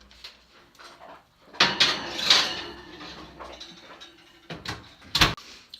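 A ratatouille dish slid into a preheated home oven: clattering metal pan and rack scrapes, an oven door bang, and sharp clinks, close and intermittent with quiet gaps.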